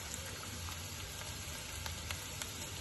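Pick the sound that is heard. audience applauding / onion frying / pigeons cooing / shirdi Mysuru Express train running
onion frying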